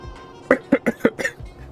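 Four or five short, sharp coughs in a quick burst from a person sipping coffee during a live drawing stream, loud and close, with a quieter breathy exhale after.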